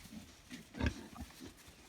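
A Large White Pietrain pig in a village yard gives a few low, quiet grunts, with one louder snort near the middle.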